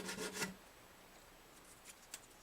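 Sandpaper rubs over the finish of a Gibson J40 acoustic guitar in a few quick, close scratching strokes at the start, then falls quiet apart from faint, brief scrapes.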